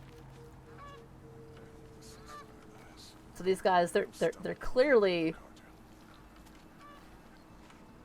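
Geese in the Horizon video game featuring Aloy honk in a loud burst of several harsh calls midway, with a person talking before and after.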